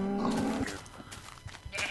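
Sheep bleat in a farming video game, a couple of wavering calls up close at the start, then scattered shorter animal sounds and clatter.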